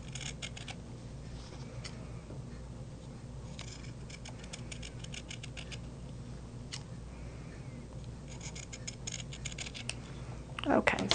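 Scissors trim quilt fabric in faint clusters of rapid snips spread across the clip, over a low hum, with a brief louder rustle at the end.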